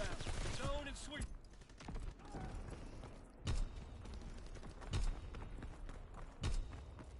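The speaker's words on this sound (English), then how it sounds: "Sending mortar rounds." Mortar rounds fire in the Call of Duty video game: three heavy, sharp blasts at roughly even intervals cut through dense, continuous battle noise and gunfire.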